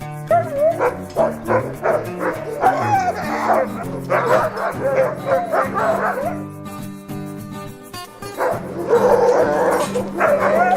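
A pack of sled dogs barks and yips excitedly. The chorus of overlapping, high-pitched cries and whines is loud, close and continuous, with brief lulls.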